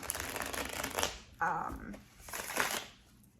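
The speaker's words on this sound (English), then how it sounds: "I was just shuffling the crap out of the Halloween tarot" Tarot cards (a Halloween tarot deck) being shuffled up close, a run of rapid riffling and flicking with a soft voice faintly underneath.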